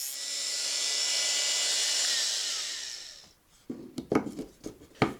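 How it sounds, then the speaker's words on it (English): An angle grinder cuts the head off a number 6 screw, giving a loud, sustained high-pitched whine for about three seconds that then spins down, followed by a few sharp clanks and knocks. "cut the head off with the grinder"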